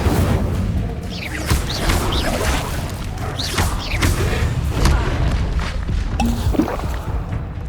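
Repeated Incendio casts in Hogwarts Legacy give off loud, close fiery booms, thuds and swishes that roll on without pause through a busy battle soundscape.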